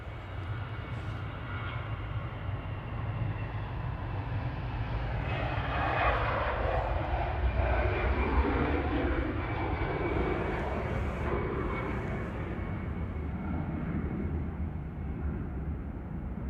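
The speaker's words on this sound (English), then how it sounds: "There's a jet on the roll in the background." A distant jet on its takeoff roll at Manchester Airport roars steadily, swelling slightly in the middle, with a broad rumble and faint whine continuing throughout without voices.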